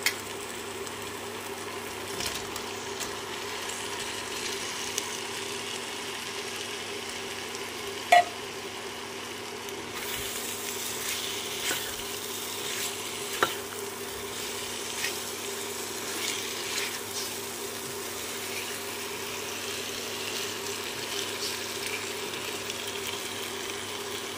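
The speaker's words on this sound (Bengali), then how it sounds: "দিয়ে দিচ্ছি আগে থেকে ভেজে রাখা পনির।" Pre-fried paneer going into a pan for butter paneer, a steady soft sizzle with occasional light scrapes and clicks of stirring, faint and continuous with no voices.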